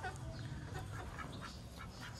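A duck near its eggs quacks faintly in scattered short calls over a steady low rumble of background noise, distant and fairly quiet.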